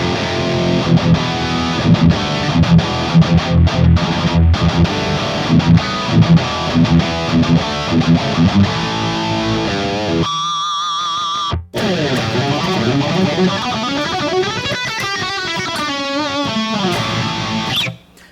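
Distorted electric guitar plays through a Kemper Profiler with a scooped, fizzy yet punchy tone, loud and continuous, in strummed chords and palm-muted chugs, then breaking briefly into a sustained single note followed by bending lead lines.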